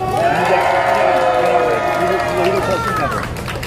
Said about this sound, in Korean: 우리 정창아 목사님을 위해서 큰 박수 한번 보냅시다